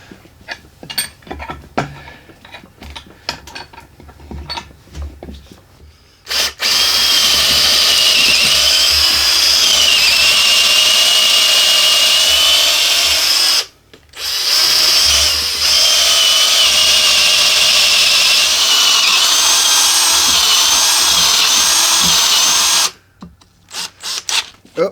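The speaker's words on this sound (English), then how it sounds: "I'm going to try to drill it out" A power drill bores into a part during an attempt to drill it out, preceded by scattered clicks and handling noise, then two long, loud, high-pitched whirring runs with a brief pause between them before stopping.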